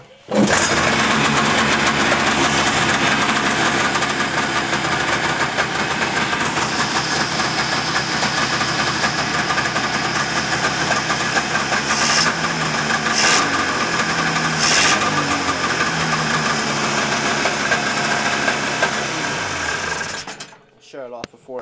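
A Yamaha STX-440 snowmobile engine, started on choke indoors, idles with a loud, steady, fast two-stroke rattle close by for about twenty seconds before cutting off, with occasional faint voices under the engine.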